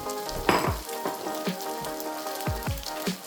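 Green onions sizzling in a hot pan while stir-frying Bangkok street-style Phad Thai, a crackling hiss with repeated scraping stirs of the spatula.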